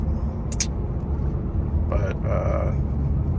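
A Ford F-series pickup fitted with a WWP straight-through exhaust and the factory resonator rumbles steadily and low, with someone talking over the deep, constant drone.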